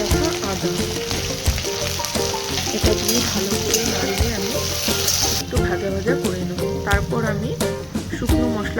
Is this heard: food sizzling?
yes